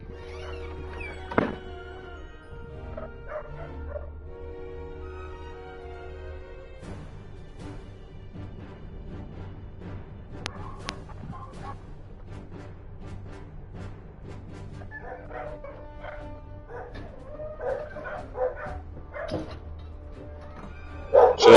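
Dogs being moved from place to place bark and yip in scattered bursts at a moderate distance, mixed with thumps and handling noise over a steady low hum, with a louder burst at the very end.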